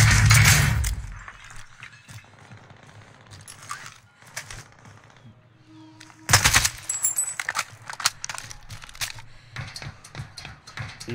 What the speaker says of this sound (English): No, I was testing the gun.